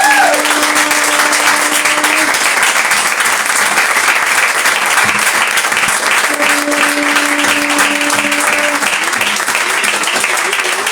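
A church congregation claps loudly and continuously at a service, with dense, vigorous applause and a sustained musical tone underneath. The sound stays at a constant high level throughout.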